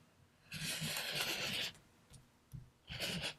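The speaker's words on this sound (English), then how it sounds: "I'm going to go ahead and trim that edge." Rotary cutter or blade trimming a quilt block's fabric edge along a quilting ruler on a large table: a steady scraping, rasping pass of about a second, a few light ticks, then a second scraping stroke, close-up.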